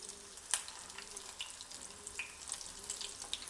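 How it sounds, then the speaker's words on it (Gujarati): Green pigeon pea tikki shallow-fries in oil with a soft, crackling sizzle, some sharper pops and spatters, heard close and fairly quiet with no talk. "અહીંયા તમે જોઈ શકો છો કે એક સાઈડ આપણી ટીકી થોડી સેલો ફ્રાય થાય"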